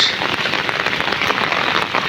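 Heavy rain pours steadily over a cucumber field in open farmland, a dense, continuous hiss of drops striking leaves and soil, loud and close with no pauses.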